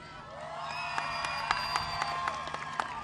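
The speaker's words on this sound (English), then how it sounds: "So please, when you clap, don't clap for me. Clap for yourselves." Graduating high school class at a 2013 commencement clapping and cheering together, a steady wash of applause with scattered sharp claps and whoops rising above it, fairly close and sustained throughout.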